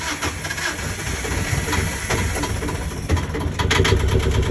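A sailboat's engine turns over and catches, settling into a rough, steady mid-pitched idle with sputtering bursts, close and fairly loud.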